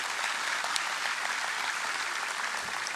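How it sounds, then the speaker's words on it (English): Sustained applause from a crowd at the grand opening ceremony of a university indoor athletics performance facility, a steady dense wash of clapping that holds throughout with no speech over it. "So let's give everybody a round of applause for that."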